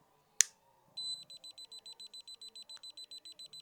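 A FeyXsas rechargeable gas leak detector sounds its alarm on propane from a lighter: a sharp click, then a rapid train of steady high electronic beeps, close and clear.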